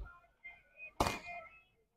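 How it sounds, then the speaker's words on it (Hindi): Firecrackers set off to welcome a visitor in a Haryana village: one sharp, loud outdoor bang stands out over faint background murmur and light crowd sound. "देखो भाई पूरे बम पटाखे बज रहे हैं आने की खुशी में"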